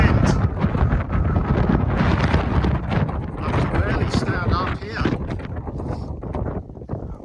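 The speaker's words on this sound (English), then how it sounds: "I'm not sure how safe it is in this wind." Strong wind gusts across the microphone on Holyhead Mountain, loud, rough buffeting that rumbles continuously with shifting strength, while a person talks through part of it.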